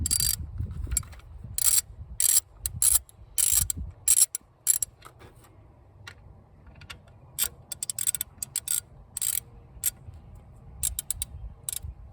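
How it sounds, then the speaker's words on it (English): Alternator bolts being unthreaded by hand on a Ford Ranger 3.0L V6, quiet intermittent metallic clicking and ratcheting bursts with short pauses, close by and faint overall. "I'm just gonna thread them the rest of the way out here."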